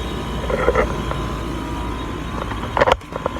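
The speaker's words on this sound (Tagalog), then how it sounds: "itong dryer, ito yung motor." Defective, overheating dryer motor from a washing machine running under repair, a steady close hum with faint tonal whine and a few light clicks and knocks, no voices.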